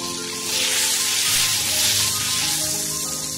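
Whole spices, a bay leaf and a cinnamon stick sizzle in hot oil and butter, a steady, fairly loud frying hiss that swells slightly midway.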